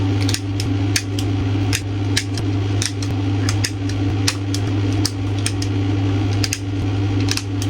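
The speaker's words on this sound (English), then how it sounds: "now I'm going to finish using the corner rounders" A corner rounder punches craft paper for scrapbooking with sharp, crisp clicks repeating at an irregular pace, about every half second, over a steady low background hum.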